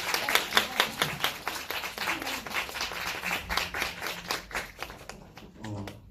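A small audience claps at a film screening talk in a cinema. The clapping is distinct and fairly close, fades out toward the end, and brief speech follows.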